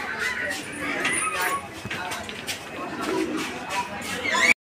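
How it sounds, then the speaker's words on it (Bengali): A pair of pigeons coo softly among other birds at a pigeon market, with someone talking over them throughout. "আর কবুতরের এই জোড়াটি আপনারা দেখেন"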